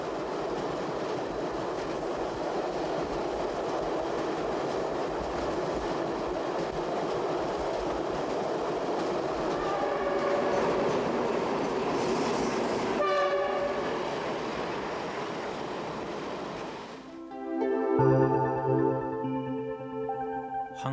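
A train crossing the Yellow River in China rumbles steadily and loudly for a long stretch with a rhythmic clatter of wheels. Near the end the noise drops and the tone shifts into a brighter, tonal passage.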